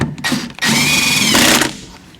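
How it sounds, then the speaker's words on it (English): A power tool tightens lug nuts on the spare tire of a 2020 Jeep, giving a couple of short whirring bursts and then one sustained, loud whine of close to a second before it winds down. "the only thing left is tighten up some lug nuts"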